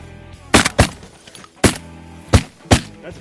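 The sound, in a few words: shotgun shot while duck hunting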